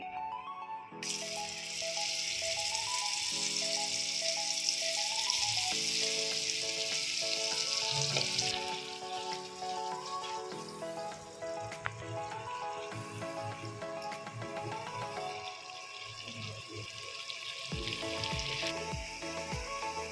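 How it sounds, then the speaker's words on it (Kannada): Paneer pieces fry in hot oil with a continuous, bright sizzle that flares and fades as pieces go in, close and fairly loud, with a steady tonal hum running underneath and no talking. "ಇದನ್ನು ಫ್ರೈ ಮಾಡಿರುವ ಪನ್ನೀರ್ ಹಾಕ್ಕೊಂಡು ಫ್ರೈ ಮಾಡ್ಕೊಬೇಕು"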